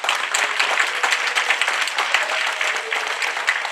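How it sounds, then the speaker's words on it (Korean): Audience applause welcoming a lawyer to the stage at a public briefing on a lead smelting plant in Yeongju, a crisp, busy patter of many hands at moderate volume, steady and without voices. "하승수 변호사님을 큰 박수로 모시겠습니다"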